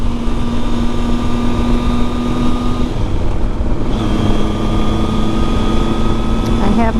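Constant BMW motorcycle engine drone with steady humming tones and wind rush while riding on the road through the Methow Valley, Washington, loud throughout.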